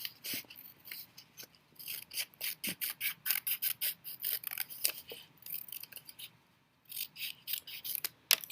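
Scissors cut through folded paper in quick, close, rhythmic snips, one after another. There is a brief pause before the snipping starts again.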